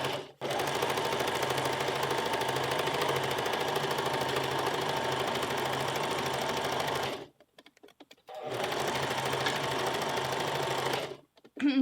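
A sewing machine stitches a western-style blouse, running loud and steady for about seven seconds, pausing briefly, then running again in a second burst before stopping near the end.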